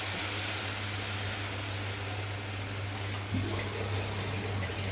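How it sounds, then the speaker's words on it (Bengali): Boiled masoor dal is poured with its cooking water into a pot for mango dal, giving a steady, close liquid rush and splash that swells briefly near the end, with no voices. "সিদ্ধ ডালটা জল সহ ঢেলে দেবো"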